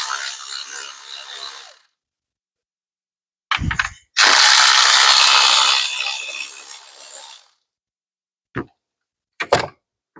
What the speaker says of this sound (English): Let's get these 10 millimeters out that hold the coils in.